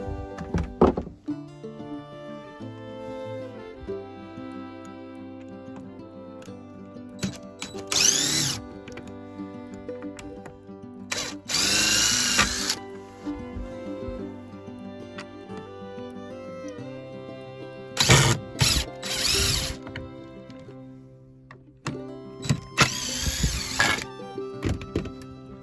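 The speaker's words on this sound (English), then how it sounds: "We're going to remove those two boards there now, so bear with me" Boards being pried and knocked off an old board and batten church door: scattered loud thunks, creaks and drill-like bursts come close by between quiet pauses, with a faint low hum throughout.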